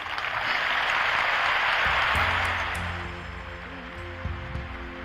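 An audience assembled at a church meeting applauds the announcement of a temple in Tokyo, Japan, a steady wash of hand clapping that swells then gradually thins into a softer patter with faint low murmurs.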